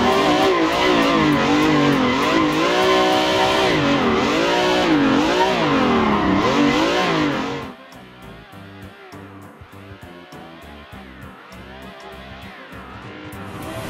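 A car drifting through linked corners with manji transitions in a racing simulator game, engine roaring and revving with sustained tire squeal, then dropping abruptly to a quieter, choppier idle-like engine sound partway through.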